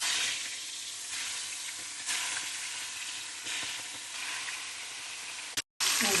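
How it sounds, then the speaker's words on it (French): Salted, cleaned and cut fish pieces frying in hot oil for a gombo sauce, a close, steady crackling sizzle with brief surges and a short cut near the end. "Nous allons faire frire nos poissons après les avoir nettoyés, découpés et salés"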